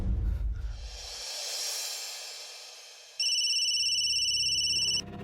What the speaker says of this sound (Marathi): अलकनंदा मॅडमचा फोन आहे.